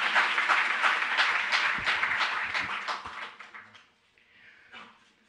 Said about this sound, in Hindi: जोरदार तालियों से आप अभिनंदन।